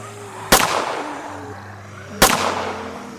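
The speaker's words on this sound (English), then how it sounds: "She fired a gun at a few of them." Two sharp gunshots spaced under two seconds apart in a zombie audio drama, each a loud close crack with a short decaying tail over a low background drone.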